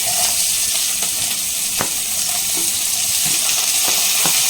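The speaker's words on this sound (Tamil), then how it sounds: "ஸ்டீம் பண்ணிவிட்டு ஆனியனை வந்து வதக்குறேன்" Onion sautéing in a pan for rajma gravy, with a loud constant sizzle and scattered clicks of a spatula stirring against the pan, no voices.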